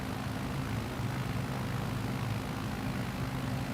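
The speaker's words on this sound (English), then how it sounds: "You can hear the plane running now?" A small plane's engine drones steadily with a low, even hum that stays constant throughout, heard faintly from a distance with no voices over it.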